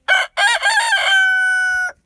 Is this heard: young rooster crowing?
yes